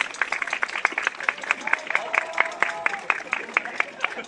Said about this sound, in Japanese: ダンサーの2人にもう一度大きな拍手をお願いいたします。